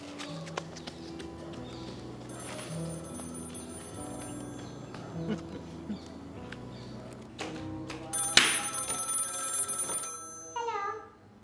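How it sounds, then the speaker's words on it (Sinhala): A telephone rings in a home setting, repeated electronic ring bursts over soft background music, moderately close. "අන්න කෝල් එකක්."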